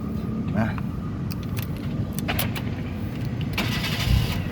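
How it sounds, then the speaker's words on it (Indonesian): A 2010 Kia Picanto 1.1 automatic is started: a few light clicks and rattles come first, then a short crank near the end that catches into a low, close rumble. "sekarang kita coba starter mobil ya"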